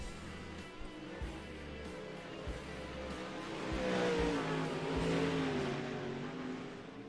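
Pro late model race cars rev at Limaland before a heat race, a rough rumbling engine note with repeated throttle blips that swells into a louder, rising roar midway before easing slightly, no talk over it.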